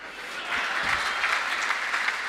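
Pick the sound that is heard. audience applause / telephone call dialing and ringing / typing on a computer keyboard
audience applause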